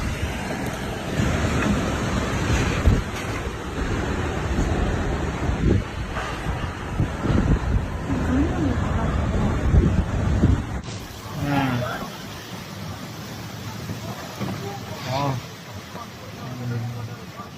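Strong thunderstorm wind gusts in Shandong, China buffet the microphone in heavy, roaring gusts for several seconds, then ease as a voice speaks over lighter wind.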